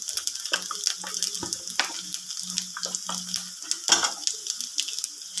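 Potatoes fry in a pan with turmeric, a steady close sizzle broken by frequent spatula scrapes and light metallic clinks as they are turned.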